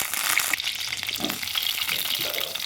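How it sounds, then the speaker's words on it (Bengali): Whole eggplants sprinkled with a little salt fry in oil in a wok, giving a close, steady sizzle with scattered pops and a few soft shifting thuds. "বেগুনগুলো দিয়ে এর উপর দিয়ে সামান্য লবণ দিয়ে বেগুনগুলো ভেজে নেবো"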